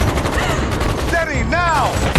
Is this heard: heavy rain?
no